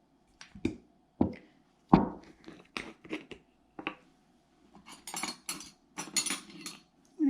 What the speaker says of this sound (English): So, got my mortar and pestle.